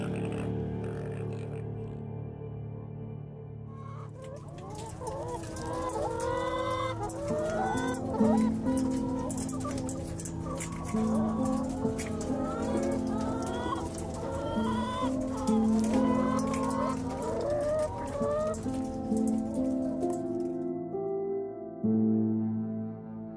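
Egg-laying hens cluck and squawk in a dense, continuous chorus, many birds calling at once with overlapping rhythmic clucks at steady, fairly loud level, tapering off near the end.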